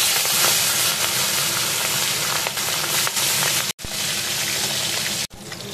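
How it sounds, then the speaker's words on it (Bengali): Katla fish pieces frying in very hot mustard oil in a kadai give a loud, continuous crackling sizzle heard close up, briefly interrupted twice, with no talk. "তেল গরম হয়ে গেছে, দেখো তেলটা খুব গরম করে আমি এবার দিয়ে দিচ্ছি মাছগুলো।"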